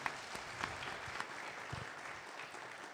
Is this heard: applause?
yes